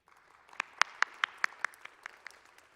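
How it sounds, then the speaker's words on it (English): Scattered clapping for the governor at a remembrance gathering, a handful of distinct, sharp claps in an uneven rhythm that thin out over under three seconds, with no talking. "Let's give the governor a round of applause."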